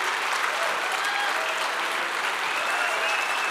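A crowd claps steadily for Marcus Lemonis at an interview event, a dense, even wash of applause with faint voices mixed in throughout.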